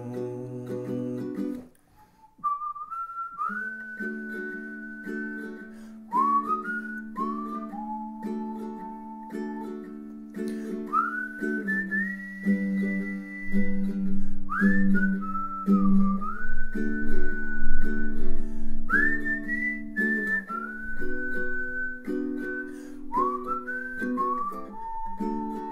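Someone whistles a tune, a clear, close melody of sustained and sliding notes carried over nearly half a minute, with no speech.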